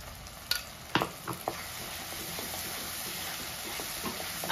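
Tomato paste frying with prawns in a pan, a steady close sizzle with a few sharp clinks and scrapes of stirring near the start, continuing evenly to the end with no voices.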